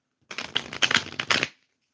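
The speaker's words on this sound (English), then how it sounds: "I can shuffle the cards" Tarot cards being shuffled in a quick riffling burst of rapid papery flicks, close and crisp, lasting just over a second with silence before and after.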